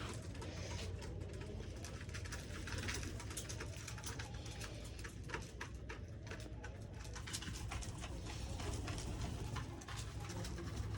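Pigeons coo steadily, soft low throaty calls repeating over a constant noisy background, with no talking.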